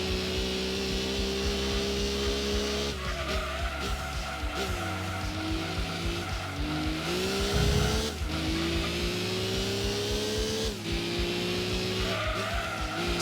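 Race car engines drone and whine continuously at high pitch in Gran Turismo 2 on PS1, with tire squeal and skidding layered over shifting revs throughout, loud and steady with no talking.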